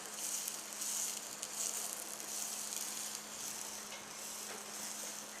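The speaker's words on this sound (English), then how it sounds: "the onion also, just we have to fry for a while" Onion frying in a pan for vegetable soup, a continuous close sizzle with gentle rising and falling hiss and small crackles, no voices over it.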